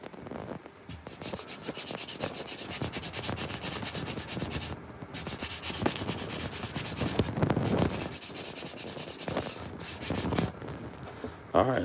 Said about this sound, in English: But we're slowly sanding it down.